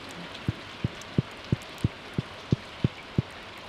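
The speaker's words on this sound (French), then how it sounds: "Il pleut dehors." Rain falls in the Stardew Valley video game as a soft, steady hiss, with a regular series of low muffled thumps about every third of a second throughout, no voices.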